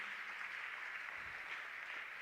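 A crowd applauds a general at a campus community safety forum launch at Mopani TVET College, with dense, even clapping sustained throughout the short stretch and no voices over it.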